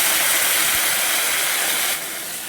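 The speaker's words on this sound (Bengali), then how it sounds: "এবার অন্য চুলায় একটা জল গরম করে রেখেছি, তা দিয়ে দিচ্ছি।" Hot water is poured into a pan of fried dried fish and potato curry, giving a loud rushing hiss of steam and sizzle that eases off after about two seconds.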